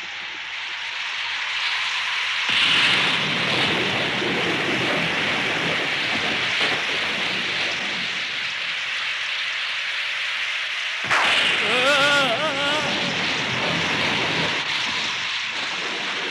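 Steady hiss of rain beginning to fall during a stormy outburst, a broad continuous wash that swells after a few seconds, with a brief tonal cry cutting in near the end.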